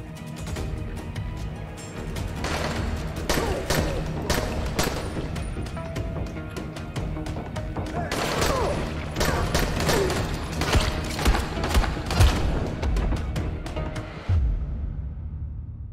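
Gunfire in the zombie game Dying Light, a long run of sharp shots cracking in quick irregular bursts over a dense background of noise and clatter, loud and close, with no voices.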